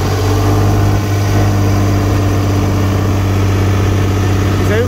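A tractor engine runs under load with its PTO engaged at 540 in first gear, making a loud, steady, close-up diesel drone with a constant low rumble and dense harmonic hum throughout and no pauses.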